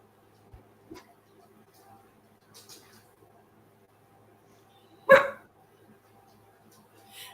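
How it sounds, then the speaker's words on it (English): A single sharp dog bark, aimed at another dog's snoring, rings out in an otherwise quiet room, preceded by a few faint soft noises. "She's barking at Daisy's snoring"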